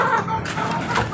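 Pet chickens cluck close by in short, busy bursts, a few overlapping calls heard over a brief moment of farmyard ambience.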